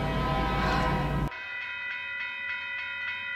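A loud rumbling burst cuts off abruptly, followed by steady ringing, tonal chimes like a crossing signal with a rhythmic clatter of a passing train.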